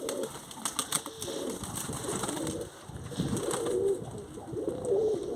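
Pigeons coo in a loft at the start of breeding season, several low rolling coos overlapping near and far among rustling and light wind.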